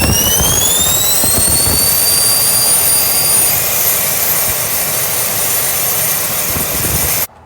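A jet kart's turbine engine spins up under an automated start ramp, a loud steady roar with rising high whines climbing and leveling off over several seconds, running continuously before cutting off abruptly at the end.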